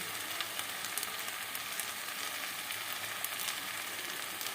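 Ginger-garlic paste and turmeric fry in a pan, with a dense, even sizzle that holds steady from start to finish and no voices over it.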